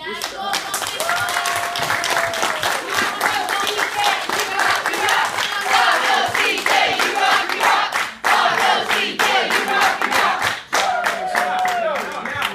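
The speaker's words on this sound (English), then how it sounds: "give me a wonderful, wonderful, wonderful round of applause for this guy right here" An audience at an orientation event claps and cheers for a speaker, dense rapid handclaps and crowd voices continuing loudly for several seconds with brief dips before swelling again.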